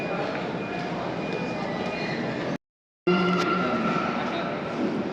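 Steady rumble and hiss of a metro train at a station, with a brief dropout midway and faint background chatter throughout.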